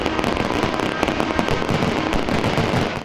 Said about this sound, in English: The final firework of the evening sparkled the number 75.